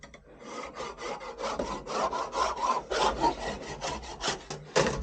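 A sharp tool scratches a 6 mm marking line into metal in a quick series of short, rasping strokes, close and distinct with no speech.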